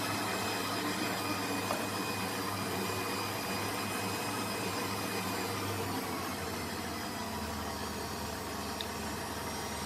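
An electric mixer whirs steadily and loudly throughout, blending whipped cream into cake batter during a children's baking class, with no speech over the continuous motor drone.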